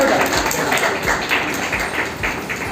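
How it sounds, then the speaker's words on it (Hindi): An audience at an Earth Day celebration at a girls' college in Lucknow claps for a teacher, a dense, steady wash of rhythmic hand claps filling the room with no talking. "और मैडम के लिए विशेष ताली बजाइए, मैडम ने बहुत कुछ बताया।"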